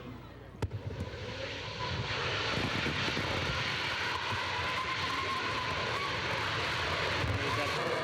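A rocket engine ignites at launch, its roar rising from a brief crack into a loud, sustained broadband rumble that holds steady and heavy, with a voice counting down just before.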